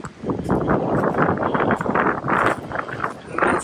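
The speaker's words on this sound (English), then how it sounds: "I don't know if you can hear the wind or not, but it's blowing pretty good" Strong wind blasts across a frosty Appalachian Trail ridge near Blue Mountain, a loud continuous roar of buffeting gusts hitting the microphone up close, with no voices.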